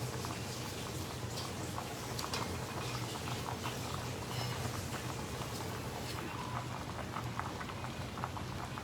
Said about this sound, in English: Overflowing. Just melting this away.